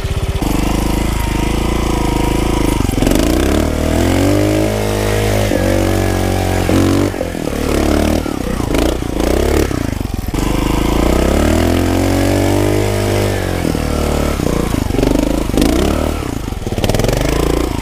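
A loud trial motorcycle engine revs and rattles up close, pitch rising and falling repeatedly as the throttle is blipped, with clattering mechanical noise.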